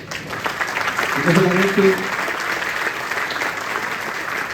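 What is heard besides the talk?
applause for Juan Antonio González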